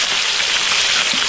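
Fish frying in hot oil in a pan, a steady, dense crackling sizzle, close and fairly loud, with no voices over it.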